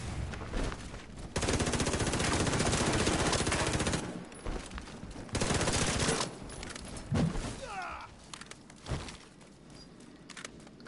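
Bursts of automatic gunfire in The Division 2 video game, loud sustained fusillades broken by short pauses and a few scattered shots, with faint talk in places.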